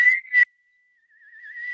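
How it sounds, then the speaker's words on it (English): A person whistles a single high, clear tone, first in two short bursts, then after a pause as a long sustained note with a slight wavering, close and loud with no other sound. "Can you whistle that high?"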